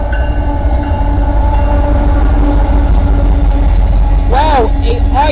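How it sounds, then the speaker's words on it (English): A CN freight train with a trailing Illinois Central SD70 locomotive rolls past close and loud, a steady roar of wheels and rail noise with a horn sounding near the end. "a Illinois Central Death Star SD70 number 1017 trailing"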